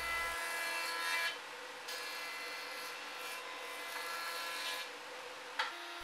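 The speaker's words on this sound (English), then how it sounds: "I take the pieces to the jointer, flatten one edge" A woodworking jointer flattening edges of wood pieces for a chess board, a continuous loud machine whir with cutter-head rushes as boards pass over, close, ending in a brief thump.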